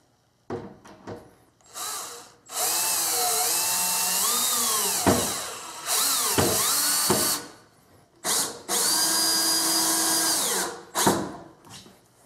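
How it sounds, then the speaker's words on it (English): Cordless drill driving screws into wood while a box is assembled with a Kreg pocket-hole jig: several loud, close whirring bursts with pitch rising and falling, separated by short pauses. "I'm using a cordless drill to run the screws in"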